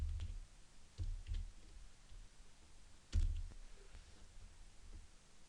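A computer mouse clicks the save button in a few sharp, isolated taps spaced over a quiet background.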